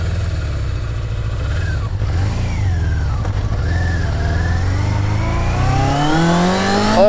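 An old Yamaha motorcycle engine revs loudly up close, its pitch sweeping up and down through several blips. Near the end it climbs in a long rising pull, with a constant rumbling drone underneath and no talking.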